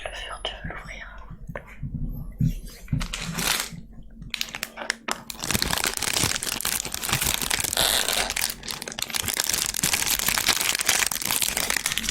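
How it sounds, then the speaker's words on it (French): A paper sachet of baking yeast being torn open while making homemade bread, with close, crisp crinkling and ripping over soft whispering, busier and denser in the second half. "tu ouvres un sachet de levure, tu veux l'ouvrir"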